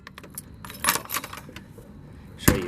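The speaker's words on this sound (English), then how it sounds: "Listen to the sound it makes when you open this." The trunk latch of a 1986 Toyota MR2 is worked and the lid opened, giving a quick series of light metallic clicks and rattles, then a sharp, louder clunk near the end.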